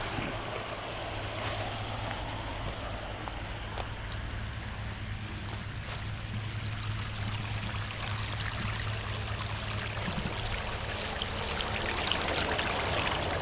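Dirty water rushes out of a backwashing pool filter with the pump running: a steady, continuous gushing flow under a low mechanical hum, close and unbroken throughout.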